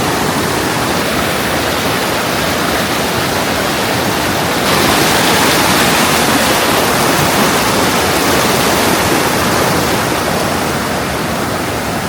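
Outdoor river flowing where a hiker crosses the water, a loud, dense, steady rushing wash of water that swells slightly stronger midway, with no voices.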